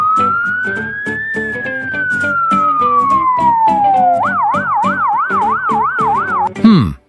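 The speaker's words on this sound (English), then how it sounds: "It's an ambulance." A loud ambulance siren wails up and down slowly, then switches to a rapid warbling yelp over bouncy music before cutting off abruptly.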